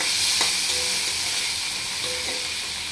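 Constant close sizzling of onions, tomatoes and chillies frying in an iron pan, with a couple of faint scraping touches from a spatula.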